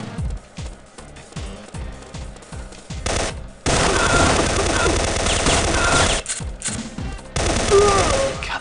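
Gunfire from the video game Syphon Filter cracks out in sharp repeated shots, then breaks into sustained loud automatic bursts, with more single shots and another burst near the end.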